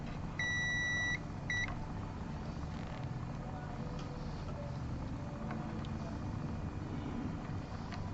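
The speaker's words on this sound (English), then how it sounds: "I'll set this right here so you can hear it beep. If this is grounding conductive." Continuity tester beeping while probing conductive grounding paint in a guitar cavity: two short high electronic beeps near the start over a steady low hum, then only faint background hum.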